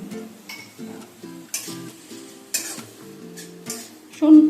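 Tomato, water and salt being stirred in a pan for a Bengali boal fish curry, a spoon scraping and clinking in repeated strokes over soft bubbling, close and moderately loud, with a brief louder scrape at the end.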